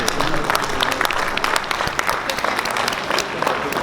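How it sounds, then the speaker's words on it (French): Audience applause for Vincent Lavier at the opening of the Ferme Côte d'Or at the Dijon fair, loud, close and sustained, with sharp individual claps standing out over a dense crowd wash. "on applaudit"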